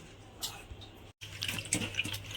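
Water pours into a bowl to soak poha (flattened rice) for fenugreek leaf cutlets, giving a steady close splashing with a brief break before the flow resumes more loudly.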